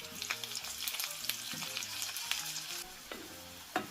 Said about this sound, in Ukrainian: Ось вже з однієї сторони обсмажили, перевертаємо котлетки на іншу сторону